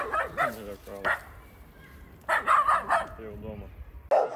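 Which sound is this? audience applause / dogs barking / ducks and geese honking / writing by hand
dogs barking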